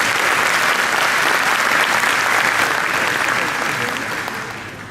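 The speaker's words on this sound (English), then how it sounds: "Can we have a round of applause for our European high schools?" An awards-ceremony audience applauds European high school finalists, a loud, dense wash of clapping that holds steady and then begins to taper off near the end.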